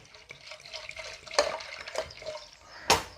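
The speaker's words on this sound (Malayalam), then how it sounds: "ദാ നമുക്ക് പാകത്തിന് വെള്ളം ഒഴിക്കാം" Water poured into a cooking pot for a thoran, a soft uneven trickle and splash with a few louder splashy bursts, close by in a quiet kitchen.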